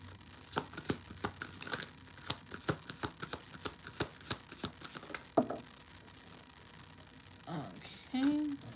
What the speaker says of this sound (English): while I was shuffling the deck before I even started to pull cards